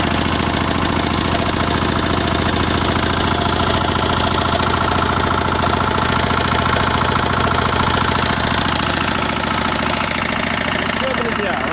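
A Scout walk-behind tractor with a freshly adjusted clutch runs steadily nearby, its small engine idling with a loud, even knocking chug and vibration that holds constant throughout.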